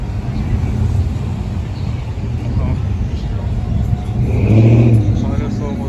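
A Ferrari sports car's engine rumbling on a street in Astoria, Queens, building to a louder rev near the end, with traffic noise and someone speaking nearby.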